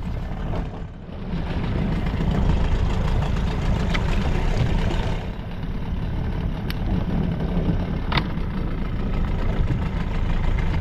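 A fishing boat's engine idles at sea, a constant low, heavy rumble with a faint knocking texture, close and steady with a few small clicks on top and no talk.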